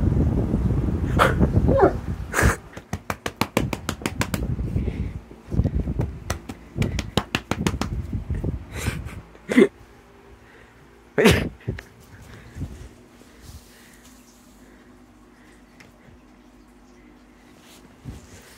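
A dog gives a series of short barks and sniffy, sneeze-like snorts at close range in a quiet room, busy at first and then sparse, with a few louder outbursts.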